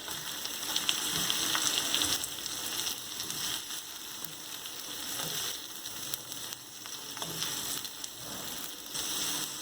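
Vegetable chow mein with green pak choy stir-fries in a hot pan, a loud continuous sizzle with rhythmic scraping and tossing sounds as the noodles and vegetables are stirred, no voices.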